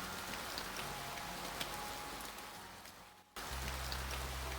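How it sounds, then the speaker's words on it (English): Steady rain falls as a dense, even hiss of drops on surfaces, close and continuous, briefly dipping before resuming with a low rumble added beneath. "The rain was still falling, but it had lessened to a light drizzle."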